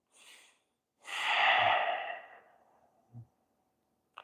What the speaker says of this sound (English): take a breath in, 4 seconds